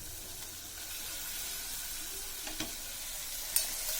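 Tomato masala sautés in oil for tomato rice, giving a steady, soft sizzle with a couple of faint clicks from stirring.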